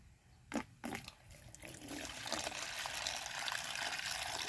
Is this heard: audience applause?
no